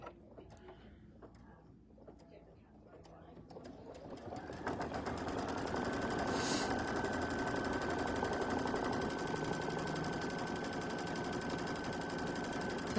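A sewing machine stitches to tack batting down on a quilted mug rug. After a quiet few seconds of handling, a steady fast motor hum and needle rattle build and run continuously to the end.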